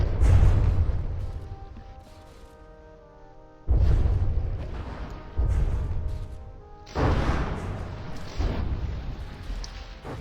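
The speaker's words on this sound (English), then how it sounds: "getting just absolutely hammered by the constant wave after wave after wave of shells" Heavy booming shell explosions from the video game From the Depths strike in repeated waves, each a loud low thud with a rumbling decay, several in succession.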